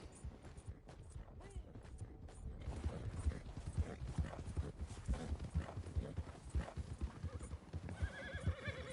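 Horse hooves clip-clopping with a whinny in the Red Dead Redemption 2 online game while riding through snow; steady rhythmic hoofbeats up close, with a neigh rising near the end.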